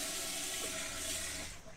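Water running from a sink tap inside a camper van, a steady close hiss and splash that fades slightly at the end, with no talk over it.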